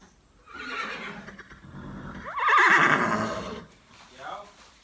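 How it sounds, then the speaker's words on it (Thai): A horse neighs loudly in a stable as a person picks up its food bucket, with a rising, shaky whinny near the middle, softer snorting calls before and after, and someone talking around it. "เวลาเดินเข้าไปจับถังอาหารเนี่ย ม้าจะส่งเสียงร้องยังไง"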